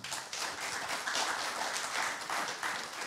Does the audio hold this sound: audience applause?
yes